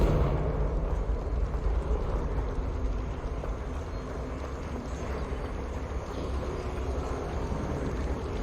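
Fire-blast spell cast in a mine in the Hogwarts Legacy game, a sustained roaring, rumbling burst with continuous low crackle that stays loud and steady throughout.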